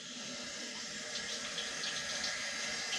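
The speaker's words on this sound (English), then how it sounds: "I'm going to turn on the water with a paper towel" Water runs steadily from a tap at lukewarm temperature for hand washing, a continuous close hiss and splash with no talking.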